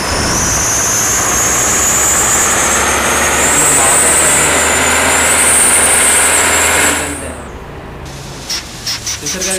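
Engine of a KSRTC sleeper bus mod in Bus Simulator Indonesia, overtaking a TSRTC Super Luxury bus: a loud, steady engine roar with a high whine that cuts off near the end, leaving a few brief knocks.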